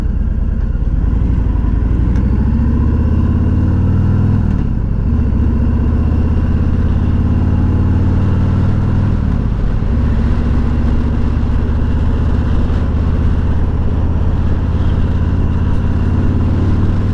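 A 2021 Harley-Davidson Freewheeler trike's engine runs steadily throughout a ride, a loud continuous low rumble with slight shifts in pitch, and no talking over it.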